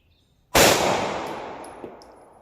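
A single loud, close 9mm pistol shot from a 3.7 inch barrel SIG firing Remington UMC 115 grain ammunition, a sharp crack followed by a long, fading ring-out.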